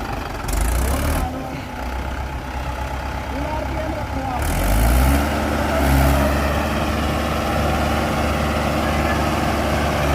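A heavy diesel engine of a Mahindra 575 XP Plus tractor idles steadily with a low rumbling throb, close by, while voices talk over it intermittently.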